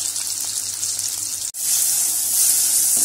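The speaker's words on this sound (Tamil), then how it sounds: "எண்ணெய் சூடாயிடுச்சு. இதுல வெங்காயம் வெள்ளைப்பூண்டு சேர்த்திருக்கோம்." Onion and garlic hit hot sesame oil for an anchovy curry, and a loud, hissing sizzle fills the clip. There is a brief break partway through, then the sizzle returns even stronger.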